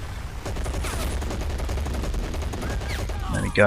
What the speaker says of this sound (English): He needs to try and man that MG and open up on them.